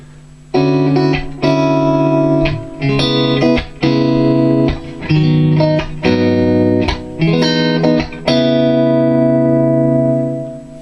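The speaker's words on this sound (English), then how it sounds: "then add a little bit of delay in the loop" Clean electric guitar through a Diezel Einstein 100-watt EL34 tube amplifier head with loop delay, strumming chords and picking notes, delay repeats smearing the tails so each phrase rings on and fades slowly.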